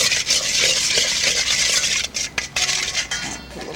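A spoon stirs bourbon, black pepper and garlic in a dish, with close scraping and light clinks of metal against the dish, irregular and brief.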